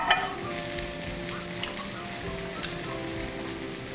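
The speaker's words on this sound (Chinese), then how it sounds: "你先煎这个啦，煎一个漂亮一点的。" Gyoza dumplings pan-fry in a hot pan at Osaka Ohsho, a steady close sizzle and crackle with a few sharper pops.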